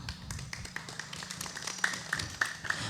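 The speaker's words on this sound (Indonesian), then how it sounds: "Tepuk tangan dong." Scattered audience clapping at an outdoor neighbourhood community event in Jakarta, a thin run of quick claps and taps at low level, with sharper claps near the end.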